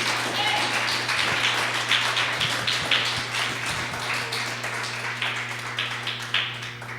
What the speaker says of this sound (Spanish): La iglesia, denle una ofrenda de aplausos al Señor.